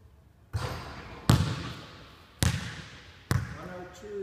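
Basketball shots in a quiet gym: four sharp, loud impacts, each ringing off with a long hollow echo through the hall, spaced about a second apart, with faint talk between them.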